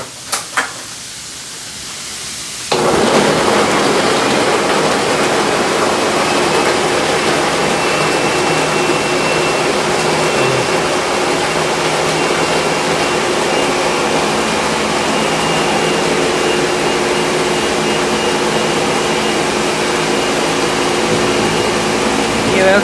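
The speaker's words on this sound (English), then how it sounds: "So we're gonna put coconut inside our blender." A blender runs steadily and loudly for about twenty seconds, chopping coconut in warm water into a creamy mix. It starts after a brief quiet moment of handling and ends in a continuous whir, with no talking.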